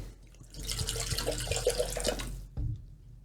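Fresh water poured onto baking soda, a close, steady splashing pour lasting about two seconds, then a brief bump and quiet.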